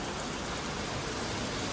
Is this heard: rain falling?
yes